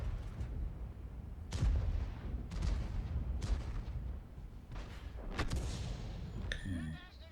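An SPG artillery piece fires in a tank battle video game, giving several heavy booming shots with rumbling tails across the clip, loud and close, and no voices.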